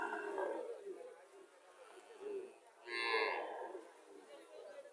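Frisian and Holstein Friesian dairy cows at a busy cattle market, with low mooing and bellowing rising above the crowd murmur and nearby talk.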